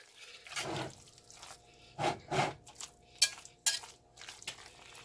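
A spoon stirs a thick potato soup mixture with dill in a pot over low heat, making several distinct scraping and sloshing strokes with short pauses between them, close and fairly soft.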